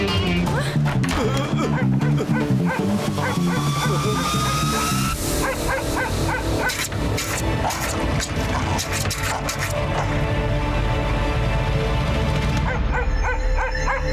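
A cartoon dog in a Motu Patlu episode yips, barks and whimpers in quick bursts over busy background music, with animated voices talking throughout.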